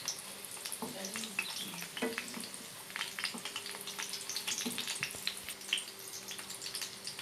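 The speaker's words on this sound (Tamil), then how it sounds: "நாங்கள் ஓவனில் வைக்கல, அதனால் நாங்கள் எண்ணெயில் போட்டிருக்கோம்." Egg puffs frying in a shallow layer of oil, a steady soft sizzle with scattered crackles and light stirring clicks at fairly low volume.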